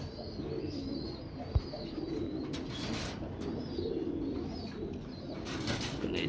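Soft cooing of English Tippler pigeons repeats in the background amid low ambient noise, with a faint wing flutter and a single sharp knock.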